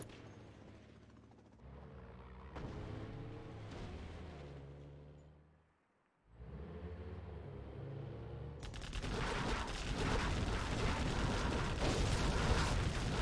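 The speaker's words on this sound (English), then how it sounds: "that artillery platform is just so good" An artillery platform firing in the real-time strategy game C&C Zero Hour, a dense rumbling barrage of shots and blasts that swells to a steady roar after a brief lull.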